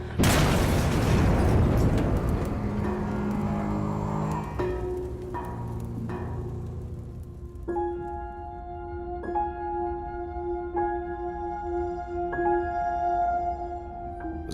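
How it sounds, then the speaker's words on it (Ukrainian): Heavy booming explosions at the start, then repeated muffled thuds heard through a wall inside the House of Trade Unions in Kyiv during a fire, with a steady low rumble and ringing tones underneath. "І це все на тлі цих вибухів, які ось тут за стінкою відбуваються"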